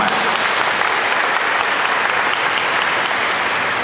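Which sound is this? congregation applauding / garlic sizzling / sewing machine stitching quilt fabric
congregation applauding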